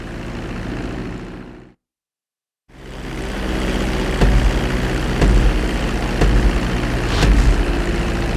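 A fixed-wing aircraft in Grand Theft Auto V, its steady loud engine roar cutting out briefly then returning with rhythmic thumps and pulses while approaching a runway to land.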